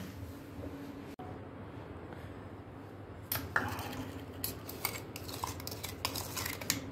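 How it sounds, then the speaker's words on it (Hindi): Ice cubes for a chocolate cold coffee clatter and clink into a container after a quiet lead-in, with a sharp tumble of hard knocks followed by scattered lighter rattles. "अब मैं इसमें आइस डालूंगी थोड़ी सी।"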